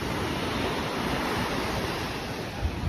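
Ocean surf washes continuously onto the shore after a typhoon, a dense, steady roar of breaking waves with some wind noise, no voices.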